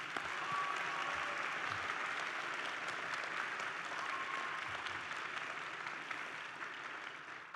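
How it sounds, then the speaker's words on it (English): Sustained applause from the audience at a university honors college spring commencement ceremony, a broad, steady roar of many hands filling a large hall, fairly distant and even throughout. "Let's give them another round of applause"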